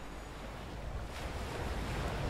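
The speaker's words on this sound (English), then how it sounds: "that's a lot of big waves there" Large ocean waves surge and wash in a continuous roar from a ship at sea in the Mediterranean, blended with wind noise and slowly building in loudness.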